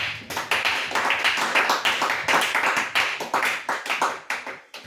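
A church congregation applauds at a worship service, fast rhythmic clapping that is loud and close, with a few short shouts mixed into the steady beat.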